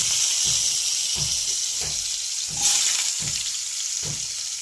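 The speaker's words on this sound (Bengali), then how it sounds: "এগুলো একটু ভাজা ভাজা হয়ে গেলে আমি একে একে সবজিগুলো দেব" Dried red chillies and five-spice seeds frying in a pan, with vegetables such as potato, carrot and radish about to go in; a steady close sizzle and hiss runs throughout with soft clinks in the background.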